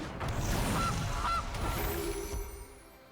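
MTG Arena goose card honking as it's played, two or three quick nasal honks close up over a short game chime, then fading out.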